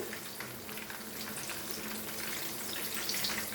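Fish fingers frying in hot oil, a soft, continuous crackling sizzle with fine bubbling pops, low in level and steady throughout.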